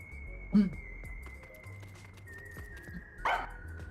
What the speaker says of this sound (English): I looked around and noticed Sugar barking at this room.